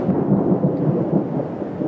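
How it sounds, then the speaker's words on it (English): Thunder from a lightning strike about a mile away during an Arizona monsoon, heard near a travel trailer campsite as a loud, sustained low rumble rolling on without a break. "Just caught the tail end of that big lightning strike"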